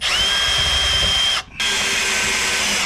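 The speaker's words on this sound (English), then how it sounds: "I can only get 2 self-tappers in because my drill won't fit under the car farther up" A power drill driving self-tapping screws under a car whirs loudly and steadily, pausing briefly in the middle before running again with a high whining tone.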